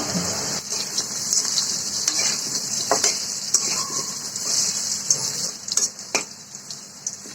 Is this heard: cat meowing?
no